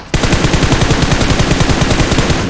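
Sustained automatic gunfire from a PUBG Mobile firefight, loud rapid bursts repeating steadily without pause across the whole stretch, no talk over it.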